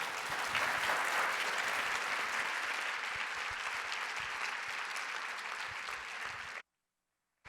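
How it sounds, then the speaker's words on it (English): An audience applauds a panel at a forum's opening plenary, a steady wash of clapping from a large room that holds evenly for about six and a half seconds before cutting off abruptly into silence. "ask you all to join in a round of applause"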